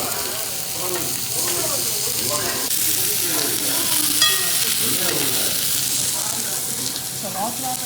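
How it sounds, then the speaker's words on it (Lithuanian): Meat sizzles on a hot grill with a constant crackling hiss while people talk quietly in the background. "Mėsa kepa."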